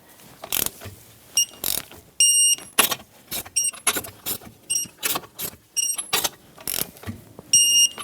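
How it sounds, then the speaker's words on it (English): A torque wrench ratchets and clicks in short bursts while tightening the lug nuts on a Nissan Rogue wheel with a 21mm socket, each burst separated by brief pauses, close and crisp. "the torque spec for this Nissan Rogue is 80 foot-pounds for the lug nuts, 21mm socket, and we're going to go in a star pattern"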